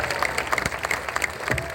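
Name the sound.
audience applause for cyclist Tiago Machado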